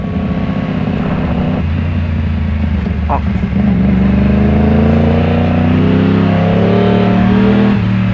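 A Yamaha MT-10 motorcycle engine, a heavy bike of around 220 kg, idles loudly and then revs with rising, sustained engine tones, close and continuous.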